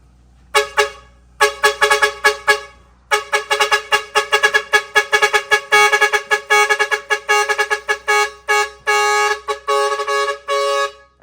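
A dual trumpet air horn blasting loudly and up close in a long run of short, choppy honks, some quick bursts and a few longer sustained blares, alone without talk.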